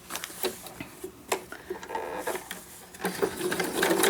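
A sewing machine runs a straight stitch for crazy quilting, its needle thumping in a fast, even rhythm close by, steadily getting louder and quicker toward the end with no talk over it.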